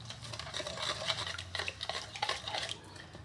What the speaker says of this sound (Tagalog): Imimix lang natin to mga papsi para ma-dissolve yung sugar at saka asin.